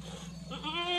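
A pregnant Beetal goat and a Sirohi goat on a farm in Assam let out a single short nasal bleat, close and rising at the end of a brief moment of background noise.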